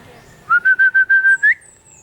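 A person whistles to call a puppy outdoors in a garden, a rapid series of seven short, even-pitched notes ending on a rising upturn, close and clear with no talking.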